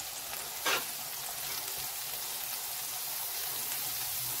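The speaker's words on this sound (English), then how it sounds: "I'm going to go ahead and turn it down just enough so I can toast the buns a little bit." Hamburger buns toasting on an electric flat top griddle, giving a steady soft sizzle throughout with one brief louder scrape or crackle near the start and no talking.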